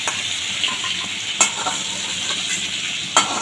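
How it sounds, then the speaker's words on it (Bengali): Prawns frying in oil in a pan make a steady close sizzle, with two sharper scrapes of a utensil against the pan. "দেখো, মাছটা এপিট উপিট করে ভাজা হয়ে গেছে।"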